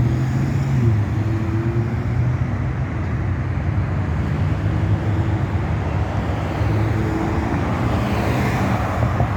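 Traffic on Interstate 15 near the Las Vegas resort corridor makes a steady, distant wash of road noise and passing cars, even and unbroken, with no voices.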